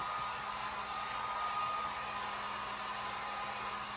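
A heat gun blows continuously while drying paint on a stencilled board, a steady, even airy whoosh with a faint motor hum, close and unbroken for the whole stretch.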